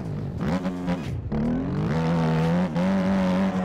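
Motorcycle engine in the MX Bikes racing game, revving hard at full throttle in a high gear, a loud steady whine that dips briefly and climbs again.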